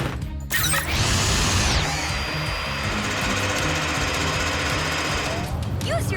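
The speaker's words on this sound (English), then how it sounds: "Now, Zuma, use the mini drill to make post holes." An animated mini drill bores post holes at a cartoon construction site. It makes a loud, continuous, gritty mechanical roar and rattle that runs for several seconds after a brief whooshing start.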